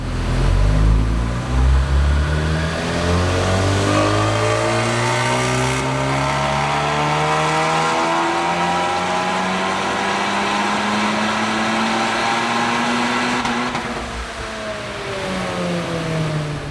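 A stage 3 VW Golf R with a Precision Turbo kit running E85 revs hard on a dyno, its engine tone climbing steadily through long sweeping pulls, loud and close, easing off near the end.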